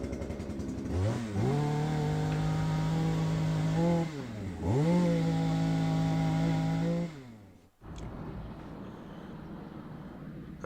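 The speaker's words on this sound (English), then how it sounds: "I'm coming at you now with a chainsaw." A chainsaw runs close and loud with two clear rev-ups, held at high speed, then cuts out, leaving quieter outdoor background noise.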